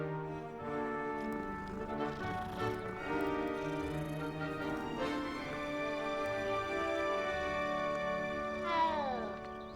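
A cat in the video game Hogwarts Legacy makes drawn-out, wavering yowls that run for several seconds, loud and close over faint ambient game sound, ending in a falling cry.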